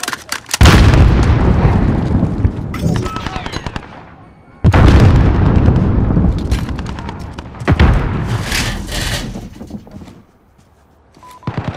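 Loud, near grenade and weapon blasts from Call of Duty Modern Warfare multiplayer boom in two heavy bursts with rattling gunfire and decaying rumble between short quiet gaps.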